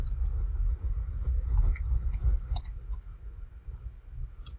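Sharp computer mouse clicks arrive in quick irregular clusters, close and fairly crisp, over a low background rumble with no voice.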